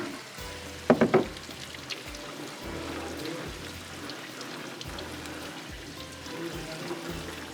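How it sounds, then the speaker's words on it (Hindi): Peas are rinsed under running water in a kitchen, a steady close hiss of flowing water with a brief louder splash near the start and a low hum underneath. "इसको मैं ज़रा मटर को धो लेती हूँ एक दफ़ा"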